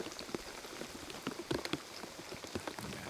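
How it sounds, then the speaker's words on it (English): Rain falls on an outdoor disc golf course during a tournament round, a soft, irregular patter of drops that stays close and fairly faint, with no talking. "Yeah, this rain."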